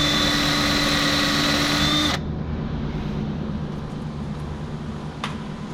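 A power drill with its final-size bit bores a hole during an ABS wire replacement, a loud steady whine for about two seconds that cuts off abruptly, leaving a quieter background hum.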